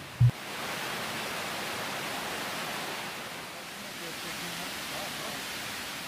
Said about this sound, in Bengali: এই জুকা ফলস যে পাথুরে ঢাল গড়িয়ে পড়েছে